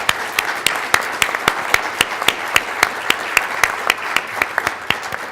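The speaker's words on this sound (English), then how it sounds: "Let's give them a round of applause" Audience applause at a baseball analytics conference, honoring the event's organizers: many hands clapping in a steady, dense patter with sharper individual claps standing out, moderately loud and unbroken throughout.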